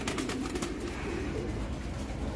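A racing pigeon coos softly in its loft, partly buried under continuous close handling noise and low background rumble.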